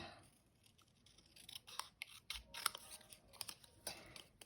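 Scissors snip through paper in a series of quick, crisp cuts, close and fairly quiet, with small rustles between the snips.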